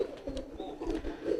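A pigeon coos softly in a few low, throaty pulses at close range, fairly quiet and with no talk over it.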